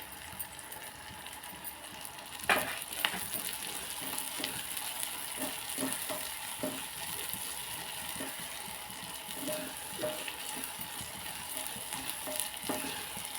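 Onion cooking with salt in a pan for anapakaya palu curry, a constant low sizzle with occasional spatula scrapes and knocks against the pan.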